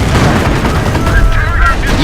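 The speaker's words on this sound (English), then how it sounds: "we've got mortars everywhere" Mortar fire and battlefield explosions in Company of Heroes, a dense, continuous wall of booming and crackling gunfire at close range, with a voice mixed into the din.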